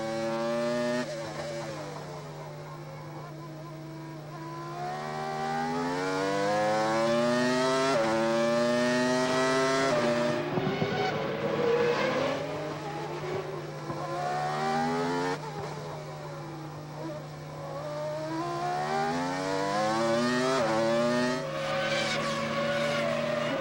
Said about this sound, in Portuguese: Dá uma sentida na saúde do motor do carro do Alesi